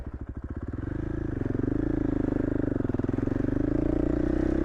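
Motorcycle engine droning steadily along an Idaho backcountry trail, a close, continuous mid-pitched rumble that rises slightly in revs, with faint clatter from the rough ground.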